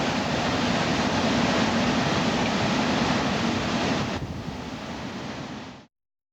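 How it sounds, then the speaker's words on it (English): Strong hurricane wind gusts from Hurricane Katrina roar loudly and steadily as a dense broadband rush, easing slightly near the end before cutting off. "Every now and then get gusts will pop up and just throw shit."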